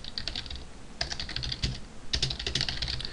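Rapid clicking keystrokes on a computer keyboard while writing Java game code, close and clear, in quick uneven bursts with brief pauses and no talking.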